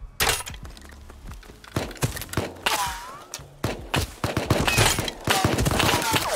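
Gunshots ring out in the game Rust, sharp cracks in irregular bursts and rapid volleys, loud and close, with a few short vocal sounds between.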